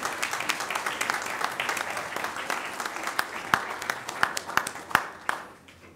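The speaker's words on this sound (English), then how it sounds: "let's give Hamilton Junior ROTC a big round of applause." Audience applause for a Junior ROTC unit at a school board of education meeting: sustained clapping from a seated crowd in a hall, steady then tapering off with a few louder claps near the end.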